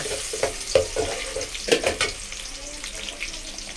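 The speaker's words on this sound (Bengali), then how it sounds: "পেঁয়াজ কুচি ভালো করে বেজে নিলাম" Chopped onion fries in hot oil for a Bengali eggplant and potato dish, a bright sizzle broken by several sharp stirring scrapes and clatters against the pan.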